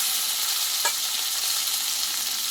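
A paste of ground ginger, green chilli and cumin sizzles hard in a hot pan, a loud bright constant hiss, with one brief stirring scrape near the start and no voices.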